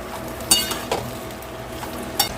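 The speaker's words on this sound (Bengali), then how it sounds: "এবার এর মধ্যে পেঁয়াজ কুচুনোটা, ক্যাপসিকাম কুচুনো, পেঁয়াজ কুচুনো দিয়ে একটু নেড়ে চেড়ে ভেজে নেব" Chopped onion and capsicum being stirred and fried in a pan, with a low sizzle underneath and a few sharp clinks of a utensil against the pan spaced irregularly.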